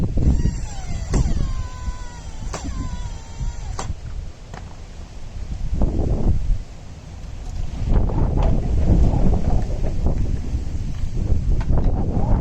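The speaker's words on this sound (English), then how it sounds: "it's really windy here right now." Strong wind roars across the microphone in heavy, uneven gusts, with a few faint creaks and clanks early on.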